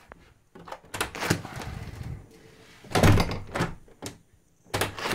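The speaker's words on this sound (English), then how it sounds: "The door is not catching anymore." Composite front door swinging shut without catching on its lugs, giving several dull thunks and knocks of the panel meeting the frame, fairly close and alone with no talk.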